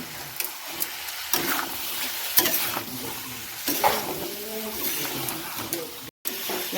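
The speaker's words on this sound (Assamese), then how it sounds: "বেঙেনা ভাজি মাছৰ তেলেৰে" Eggplant fries in fish oil with a continuous sizzle, broken by repeated scraping stirs of a spatula in the pan, while a voice speaks intermittently nearby.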